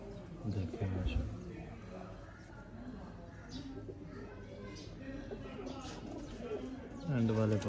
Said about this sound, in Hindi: बड़े मज़ेदार कबूतर हैं